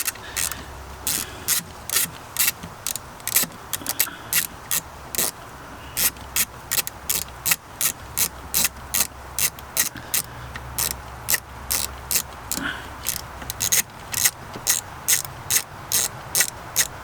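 Ratchet working loose the valve cover bolts on a Nissan Versa, rapid repeated clicking strokes in bursts, close and loud, no talk.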